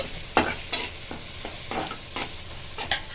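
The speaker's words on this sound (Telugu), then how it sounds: "ఇప్పుడు కరివేపాకు వేసుకోవాలి కొంచెం. చూడండి, ఇంకొంచెం వేగాలి." Curry leaves frying in a pan for an egg curry, a steady sizzle with a series of distinct scraping strokes from stirring, roughly every half second, close and fairly loud.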